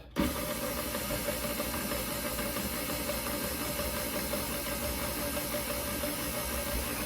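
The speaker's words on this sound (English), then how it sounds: "we're going to go ahead and attach the dough hook. It may get loud, and we're going to go ahead and start mixing it up" A stand mixer fitted with a dough hook churns Amish bread dough, giving a steady loud motor whir with a constant hum that begins abruptly and runs unchanged, no voices over it.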